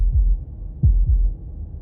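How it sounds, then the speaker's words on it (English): Slow, booming heartbeat from the video game Slay the Princess, with two pairs of heavy low thuds, near and prominent over a faint droning background. "That was the sound of a heartbeat"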